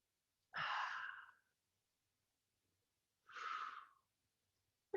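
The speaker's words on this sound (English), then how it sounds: "excuse my yawn" A long drawn-out yawn from an instructor during a 45-minute warrior yoga class, then a second shorter breathy exhale, both close and fairly loud with silence between.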